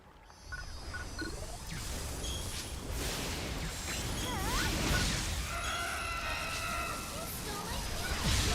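Chickens in the video game Phantasy Star Online 2 squawk and crow in short bursts among busy game effects.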